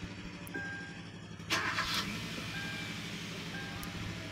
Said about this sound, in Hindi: अभी स्टार्ट हो गया है गाड़ी